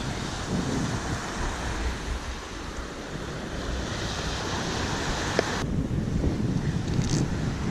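Waves wash into a small seaside bay near Cavalaire-sur-Mer in France, a continuous rushing surf blended with wind buffeting the microphone, with no voices.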